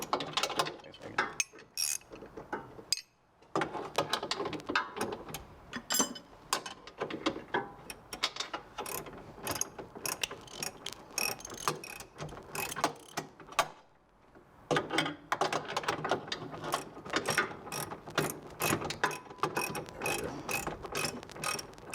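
A hand ratchet works a bolt loose on a car before the subframe comes down, with rapid, close metallic clicking in repeated bursts broken by short pauses.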